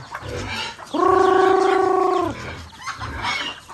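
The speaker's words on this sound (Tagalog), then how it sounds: "papakainin na natin na yung mga manok natin" A single drawn-out, tonal chicken call, loud and close, with softer scratchy farmyard noises before and after it.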